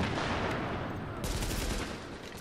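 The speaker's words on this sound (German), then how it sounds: "Ich schieß die ganze Zeit auf ihn." Rapid gunfire from the video game The Division rattles in dense continuous bursts, loud and close, with a noisy battle backdrop throughout.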